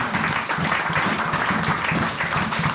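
A church congregation applauding together, steady dense clapping at close range filling the space, with a faint murmur of voices underneath.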